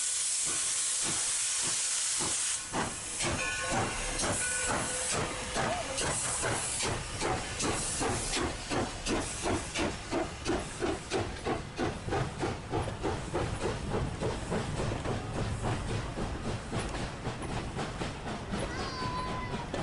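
A 1937 Alco-built steam locomotive on the Black River and Western excursion line in New Jersey. It starts with a loud hiss of steam, then settles into rapid rhythmic chuffing that continues steadily as the train pulls away.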